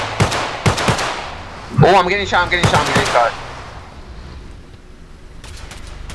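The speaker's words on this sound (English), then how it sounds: "I'm getting shot." Gunfire in Garry's Mod roleplay at a wedding scene heard from a firefighter's position: several sharp close shots, then a rapid burst of automatic fire, with a brief spoken exclamation among the shots and quieter reports fading after.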